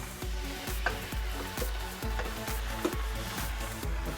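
Tourtière filling sizzles steadily in a pan while a spoon stirs it, with regular low scraping strokes repeating about twice a second, close and moderately loud.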